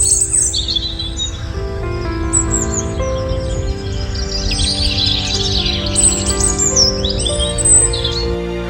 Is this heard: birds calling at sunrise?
yes